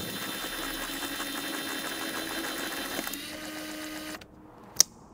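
A Nikon F5 film camera's motor drive fires at eight frames a second, a steady mechanical whirring chatter running for several seconds, shifting pitch briefly, then stopping, followed by a single sharp click.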